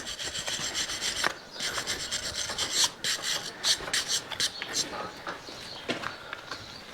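Steady rasping strokes of a farrier's rasp filing a horse's hoof, close and fairly loud, with repeated scraping passes and brief pauses between them.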